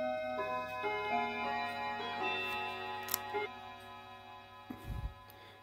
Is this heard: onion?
no